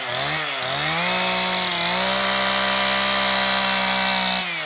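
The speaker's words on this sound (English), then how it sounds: "has been chainsaw carving for the past year and a half" A chainsaw carves old tree wood into art, its engine droning loud and steady with pitch dips as it bites into the timber, close and continuous with no talk.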